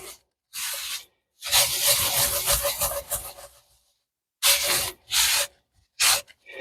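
Coarse salt scrubbed against a cast iron pan to lift stuck-on steak residue gives harsh, gritty scraping strokes in close bursts of varying length, separated by short silent pauses.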